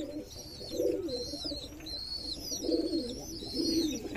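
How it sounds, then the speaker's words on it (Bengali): Domestic pigeons, including a black homa, coo in a loft. The low, throaty calls repeat about four times in a steady rhythm, close and clear, with faint chirps above them and no voices. "এই দেখেন কবুতর গলা কত ডাকাডাকি করে"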